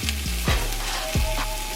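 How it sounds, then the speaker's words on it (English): Bell peppers and onions frying in a pan of oil, a steady close sizzle with a couple of brief stirring knocks, no voices. "I have the oil in the bottom of the pan, and I'm just going to take my bell peppers and my onions"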